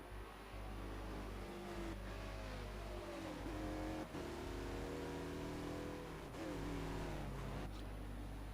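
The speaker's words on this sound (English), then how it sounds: "These Mazdas have a very nice engines" Mazda race car engines in a Forza endurance race at Road America drone and rev steadily, with pitch rising and falling through gear changes as the cars run close together, with no one talking.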